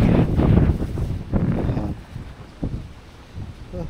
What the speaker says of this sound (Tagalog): hangin lang naman na malakas